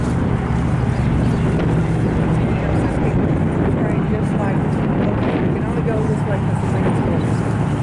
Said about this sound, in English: And then we got wind too. A lot of wind.